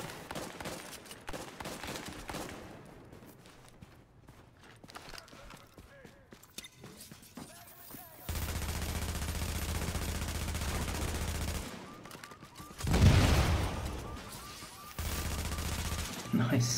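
Gunfire and sniper shots ring out in a multiplayer shooter video game, with bursts of shots, sustained loud stretches of firing and sharp louder blasts, while players talk over the action.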